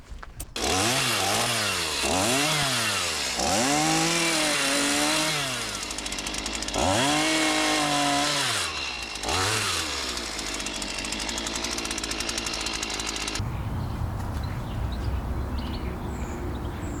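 A chainsaw cuts through hedge branches while landscaping a garden, its engine revving in repeated rising and falling surges, loud and close, then dropping to a steady idle near the end.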